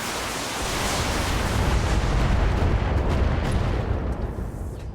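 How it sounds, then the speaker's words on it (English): A dense, continuous roar of missile barrage fire fills the air, loud and sustained with crackling bursts throughout. "Get him with the missile barrage."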